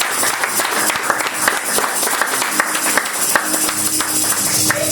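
A church congregation bursts into loud, dense applause in honor of a mother, a continuous close crackle of many hands clapping with no talking over it.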